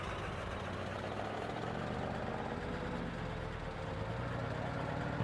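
A truck engine in Farming Simulator 22 that idles rough, revving up on a back road with a continuous low, throaty drone and a gradual rise in pitch, no voices.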